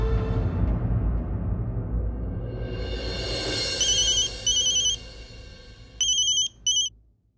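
A telephone rings in a Hindi TV drama scene: an electronic ringtone plays in several short bursts over a soft background music bed, loud and close.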